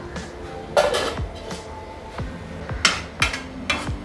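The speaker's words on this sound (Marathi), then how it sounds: "एक दोन मिनटं ठेवूया झाकून घालून बघूया" Metal lid set over a pot of spicy mutton liver masala, several sharp clanks and clinks of metal cookware, close and moderately loud, with no talking.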